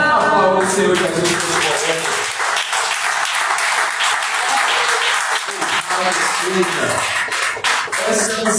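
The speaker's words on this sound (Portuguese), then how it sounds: "Aplauda o Senhor Jesus." A church congregation applauds in sustained, dense clapping that fills the room loudly for several seconds, with faint voices mixed in.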